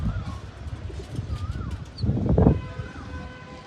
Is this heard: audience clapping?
no